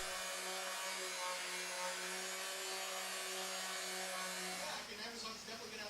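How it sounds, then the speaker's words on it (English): Power sander taking the old finish off a reclaimed wood cabinet, a loud steady whirring hiss close by that shifts in tone near the end. "And then I sanded off the old finish."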